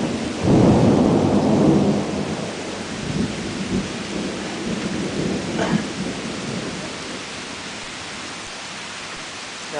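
A thunderstorm in Salamanca, New York, with a loud, deep roll of thunder at the start that fades into a steady hiss of heavy rain, plus a fainter rumble partway through.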